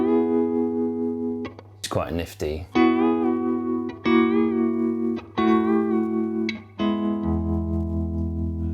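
Electric guitar bend lick with several strings slid and bent together as one move, a handful of sustained, wavering chord stabs following one another, with a brief spoken remark in the middle.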